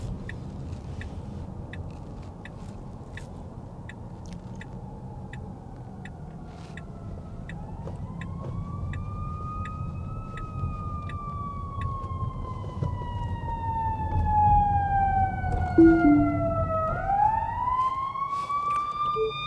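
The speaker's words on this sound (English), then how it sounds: "Needs to stop for fire truck." A fire truck siren wails in rising and falling sweeps over steady road and traffic rumble, growing louder as the fire engine draws near, with a sharp upward whoop near the end.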